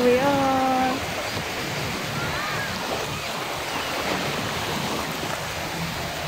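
Sea waves wash onto the beach at Morong, Bataan, a steady broadband surf roar with wind, opening under a brief tonal whistle-like sound, then continuing evenly without voices.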